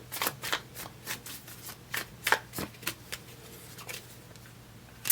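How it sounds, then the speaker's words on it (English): Tarot cards are shuffled by hand in quick, rhythmic riffles and soft slaps, close and clear, with no talk over them. "Let's pull a couple of cards for that."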